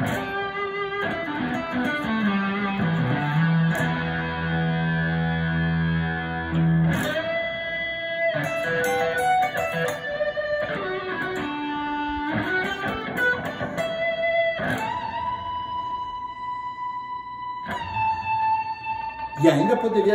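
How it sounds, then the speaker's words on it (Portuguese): Electric guitar played through an overdrive pedal with reverb added, heard alone as sustained distorted notes and chords with a long, washy tail, loud and continuous throughout. "Fica super forte com reverb."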